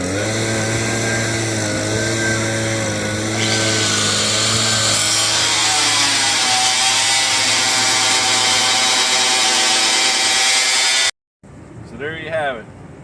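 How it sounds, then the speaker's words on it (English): An angle grinder cuts metal for a commercial range hood duct, a loud, steady high-pitched whine with shifting metallic harmonics for about eleven seconds, then it stops abruptly and a short spinning-down rattle follows. "you cut it out with a grinder"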